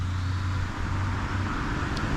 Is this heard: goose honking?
no